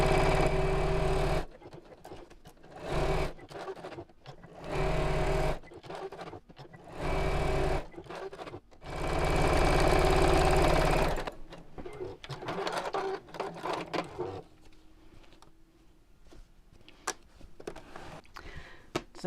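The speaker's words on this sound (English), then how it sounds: "we can go for a longer stitch on the sewing machine" A sewing machine on a long 2.8 stitch quilts lines across a simple purse in several bursts of rapid mechanical whirring separated by short pauses, then quieter clicking and handling sounds.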